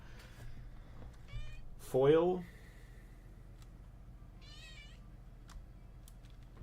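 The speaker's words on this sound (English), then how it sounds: "Oh, cat." A pet cat meows once, a clear rising-and-falling call close to the microphone, with a couple of fainter chirpy mews before and after, while a person speaks briefly.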